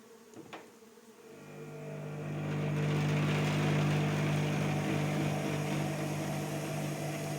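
An electric 12-frame honey extractor with a belt drive spins up after a brief click, settling into a loud, steady motor hum and whirring drone that holds alone through the rest.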